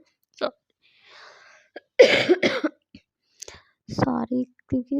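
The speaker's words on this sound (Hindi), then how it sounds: "सॉरी, क्योंकि खांसी अभी गई नहीं है मेरी, खांसी है मेरी अभी।" A woman coughs several times in short, sharp bursts at close range, with breathy sounds and brief voiced bits in between.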